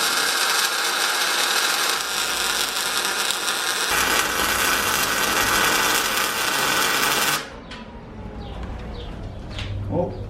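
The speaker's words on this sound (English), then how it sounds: "go ahead and plug weld all 4 sides, and then I'll go ahead and put a bead all the way around the entire thing" Plug welding on the body of a DA9 Honda Integra with an F20B swap: a dense, steady crackling hiss runs close and loud for about seven seconds, then cuts off, leaving a quieter room with faint scattered chirps.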